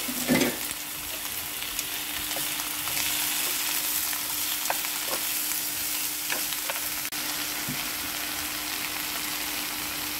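Squash shoots stir-fried in a pan, giving a steady close sizzle with scattered clinks and scrapes from stirring that run unbroken for about ten seconds and carry no speech.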